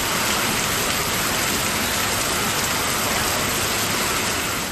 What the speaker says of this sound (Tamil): ஒரு மணி நேரத்திற்கு மேலாக இடியுடன் கனமழை பெய்தது